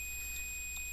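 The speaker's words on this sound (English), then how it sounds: "Full continuity. It just beeps." A faint, high electronic beep tone sounds steadily from a multimeter testing continuity on an iPad Air 1 charging circuit, with two slight pulses in the tone over a quiet background.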